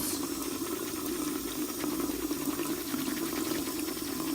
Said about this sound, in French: Encore un pinceau œil, j'humidifie, je frotte.